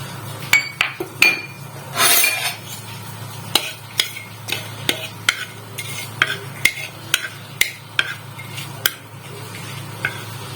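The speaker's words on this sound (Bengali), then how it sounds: "কড়াইয়ে ফোড়নটা দিয়ে দিচ্ছি।" Whole tempering spices dropped into hot oil in a wok for a red lentil dumpling curry, giving a steady close sizzle broken by sharp metallic clinks and scrapes of a spoon against the pan.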